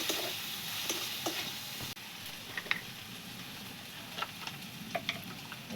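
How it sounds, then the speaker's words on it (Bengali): Garlic, cumin and ginger paste frying in masala in a pan, with a steady low sizzle, light stirring scrapes and small ticks over about six seconds. "এতে রসুন বাটা, জিরে বাটা আর আদা বাটাটা দিয়ে মশলাটা কষিয়ে"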